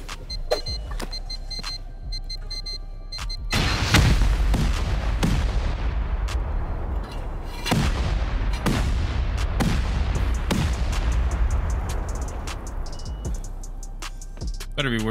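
Rockets fired at a base in a survival shooter game land as repeated heavy booming blasts with sharp attacks, spaced irregularly across the span, loud and continuous under a dense rumbling bed.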